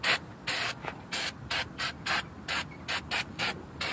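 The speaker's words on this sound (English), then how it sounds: "you just want to spray it down with some brake cleaner" Brake cleaner sprays in a quick series of short hissing bursts onto a front brake caliper bracket of a 2005–2010 Chevy Cobalt, about a dozen evenly spaced spurts, close and fairly loud.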